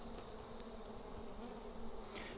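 Honey bees buzzing inside an open hive, a dense steady drone that holds evenly throughout, close and continuous with no voices.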